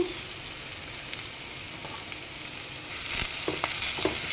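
Grated carrot frying in a pan, a steady close sizzle that swells louder toward the end with a few scraping stirs.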